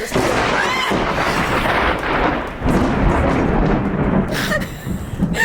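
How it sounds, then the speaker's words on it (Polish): Loud, close thunder crashes and rumbles through a summer storm, a sustained booming roll lasting several seconds that fades slightly, then sharpens again near the end. "Błysnęło i strzeliło."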